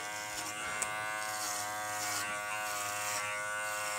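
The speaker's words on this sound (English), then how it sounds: "I'm going to go over the areas I clipped with the Flash 5 and the Hornet." Electric dog clippers, a Kenchi Flash 5 and a Hornet, run steadily over a goldendoodle's thick coat, giving a close, continuous buzzing hum with slight shifts in tone as the blade passes through fur.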